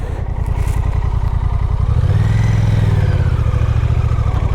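Honda Rebel 1100 motorcycle with manual transmission, ridden and accelerating: a loud, steady engine drone with a thumping low rumble that swells in revs midway, wind noise alongside and no talking.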